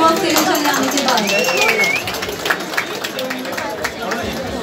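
An audience claps in a round of applause for a song team at a music label launch, a dense steady patter of many hands at close range with crowd noise and a faint whistle mixed in.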